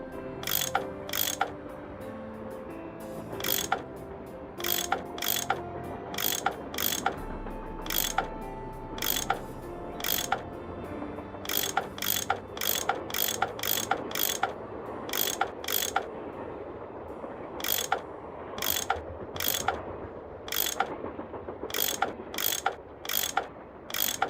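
A tool unscrewing bolts in the puzzle game Nancy Drew: Last Train to Blue Moon Canyon, a long run of crisp metallic ratcheting clicks in rapid bursts, loud and close, over a faint mechanical drone and no speech.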